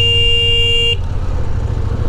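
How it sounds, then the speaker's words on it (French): A CFMOTO 800MT Touring motorcycle's horn blares once, a shrill, loud, steady tone lasting about a second, then cuts off, leaving engine and road rumble underneath. "Bizarre le klaxon, très aigu et assez puissant"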